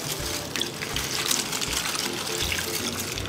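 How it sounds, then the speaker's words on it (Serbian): Water poured from a tap into a pot holding eggs and onion skins, a steady close gushing and trickling stream. "Sipajte vodu da prekrije jaja i lukovinu."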